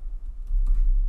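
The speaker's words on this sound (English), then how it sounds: "I can just type in the email that I want" Quick burst of keystrokes on a computer keyboard while an email address is entered, faint soft clicks close by with no talk.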